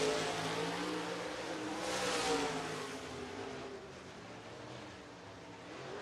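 A group of dirt track race cars pulling away on the green flag at Lancaster Motor Speedway, engines rising together in a distant, blended roar that swells then settles into a steady drone.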